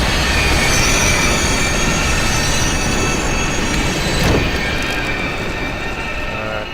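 Train rolling along with wheels squealing in the horror video game Here They Lie, a loud continuous rumble with high metallic screeching lines held throughout and no speech.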